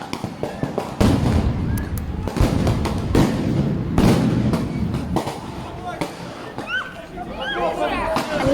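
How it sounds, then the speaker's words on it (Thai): Sharp bangs and thuds from stun grenades, smoke grenades and tear gas fired by police dispersing a protest in Belarus go off repeatedly amid a noisy crowd, with shouting voices and hissing bursts throughout. "ระเบิดแสง ระเบิดควัน แก๊สน้ำตา"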